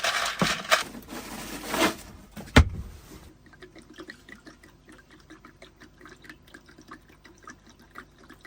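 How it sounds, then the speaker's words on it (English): Water pours and splashes over ice in a cooler, a full, rushing fill lasting a few seconds before giving way to quiet dripping and faint trickles, recorded inside a camper van during a car camping trip. "We got ice cold water on top of it."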